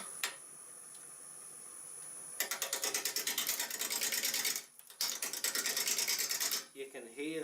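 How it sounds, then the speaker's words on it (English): A wood blank spinning on a lathe while a hollow form is turned, its square corners catching the tool in a rapid rattling, chattering series of loud ticks that comes in two bursts, close up. "You can hear the corners kind of breaking off."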